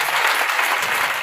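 A church congregation at a Friday evening prayer service claps and cheers loudly for Jesus, a dense, steady burst of applause that fills the short moment without a break.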